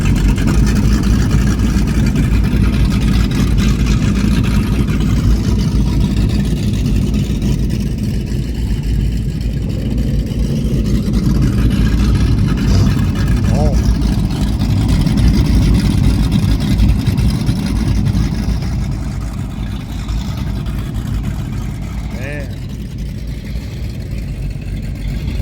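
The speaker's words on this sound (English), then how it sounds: "I don't know if you can hear me over the sheer power of the engines that you hear." Powerful boat engines rumble steadily and loudly while passing through canal locks near Bobcaygeon, a continuous close throbbing drone with slight swells in intensity.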